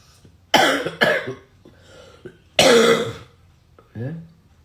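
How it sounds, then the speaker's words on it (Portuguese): Two sharp coughs in quick succession, then a third harsher cough a moment later, close and loud, with a short throat-clearing sound at the end. "Ainda tá aí, a tosse."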